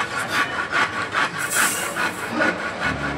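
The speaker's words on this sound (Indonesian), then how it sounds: "setelahnya saya gergaji bagian tengahnya" Hand saw cutting through wood to build an oil rack, a steady back-and-forth rasp of regular strokes, close and fairly loud, with no talking.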